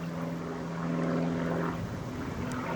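Light propeller plane flying into Cranfield, a steady droning engine with a buzzing tonal hum, heard at a moderate distance over open countryside with no talking.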